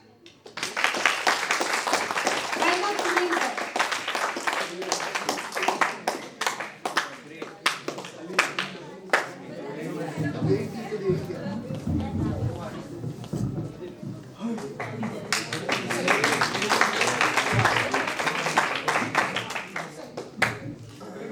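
An audience at an Institution Innovation Day event claps as a guest is welcomed onto the stage, dense applause that dips to scattered claps with a brief spoken line, then swells again.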